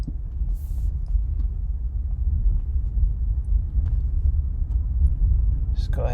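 A 2017 Acura NSX on a short drive, heard as a low, steady rumble of engine and road noise from inside the cabin, continuous throughout with a faint rise near the end.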